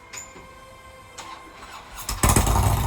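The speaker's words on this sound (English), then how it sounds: "My neighbor's motorcycle." A neighbor's motorcycle engine cranks and catches, building from faint sputters to a loud, rough idle in the final second, heard nearby outdoors with no talking.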